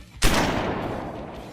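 A single sharp gunshot bursts in after a brief quiet moment, then trails off in a long rumbling decay. It is loud and close, with no speech.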